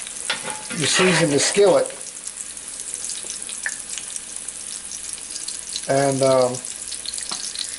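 Bacon grease sizzles softly in a cast iron skillet beneath a voice, a low steady frying hiss that continues between his short bursts of speech.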